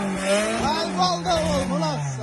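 A car's exhaust roars as its engine revs at a car lot, a continuous droning note rising and falling through several revs, with a voice speaking over it.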